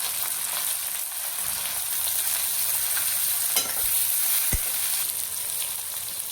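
Capsicum sizzles in a hot pan with onions fried until red, a steady close hiss broken by a couple of sharp clinks of a spoon against the pan, with no talk.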